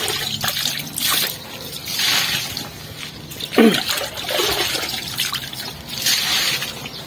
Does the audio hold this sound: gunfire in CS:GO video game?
no